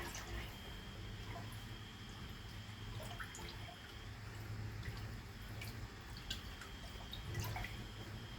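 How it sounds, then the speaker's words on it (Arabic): Tap water and a splash of vinegar are poured into a bowl for soaking grape leaves, heard as a faint, steady trickle with scattered soft drips against a quiet background. "طبق فيه مية عادية من الحنفية، هحط فنجان من الخل"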